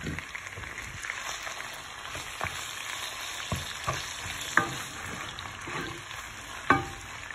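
Two medium onions fry in hot oil with cardamom, a soft continuous sizzle broken by occasional scraping stir strokes and light clicks of the spoon against the pan.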